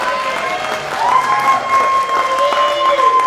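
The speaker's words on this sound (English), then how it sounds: "Can we give her a round of applause" Clapping from an awards ceremony audience at a Black film festival in Gary, steady and moderately loud throughout, with some crowd noise mixed in.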